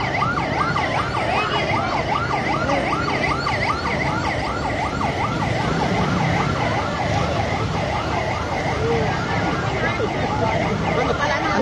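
Fire truck sirens wail at a fire in Tondo, Manila, a loud rising and falling cycle repeating steadily over engine rumble and crowd noise, with voices talking underneath.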